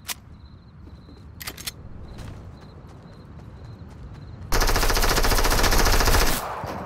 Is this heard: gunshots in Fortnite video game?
yes